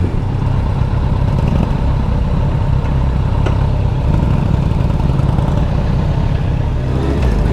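A Kawasaki Concours GTR 1400 motorcycle engine runs close and loud with a steady, rumbling drone and no breaks, heard while riding at night.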